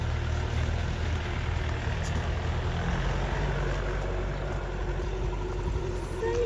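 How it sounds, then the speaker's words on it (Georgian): A tractor engine drones steadily in a vineyard, a continuous low rumble holding at an even level throughout without any break. "აქ ტრაქტორი ამუშავებს ენახს."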